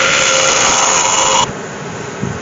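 A negative scraper cuts a yew and resin bowl spinning on a lathe, giving a bright, steady scraping hiss that stops abruptly partway, leaving only the lower hum of the running lathe.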